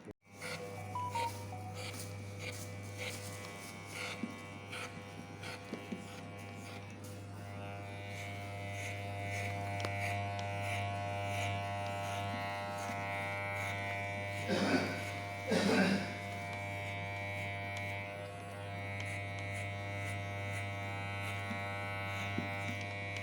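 Electric hair clipper buzzing steadily throughout a low fade haircut, a constant nearby drone with brief louder bursts as it works, while people talk in the background.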